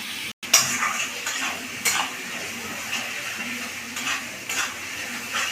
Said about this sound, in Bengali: এবার চলুন এই মাংসটাকে আমি একটু কষিয়ে নিই ভালো করে।